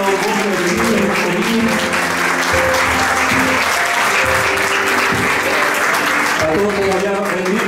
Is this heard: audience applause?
yes